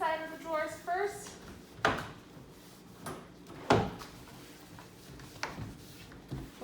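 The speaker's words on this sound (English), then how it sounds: "Clean the inside of the drawers first." Kitchen drawers in a studio apartment are pulled open and pushed shut, making several sharp wooden knocks and slides spaced a second or two apart, close by, with a person speaking between them.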